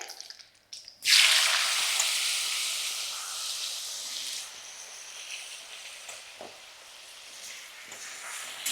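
A sudden burst of hissing sizzle as potatoes hit hot oil spice tempering, loud at first then settling into a quieter steady frying crackle with a few taps.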